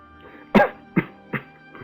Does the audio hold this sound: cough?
yes